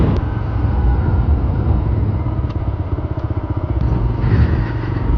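A motorcycle rides along a road through Colombo Port City, its engine a loud, steady low drone with a pulsing rumble throughout, close to the rider, with faint clicks and no talk.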